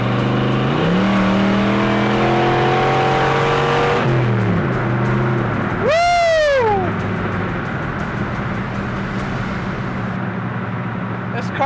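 A Corvette resto-mod's engine revs up with a steadily rising, harmonic-rich note while cruising on a highway, followed by a brief sweeping tone over constant loud road and wind noise.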